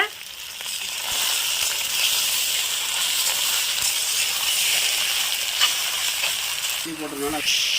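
Macaroni in tomato sauce sizzles and fries in a pan while being stirred, giving a steady, close hiss with an occasional scrape, and a voice speaks briefly near the end.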